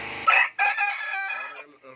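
A heavy, large-bodied Plymouth Rock rooster crows once, loud and close. The call opens with a short rising burst, then settles into a long sustained crow that fades at the end.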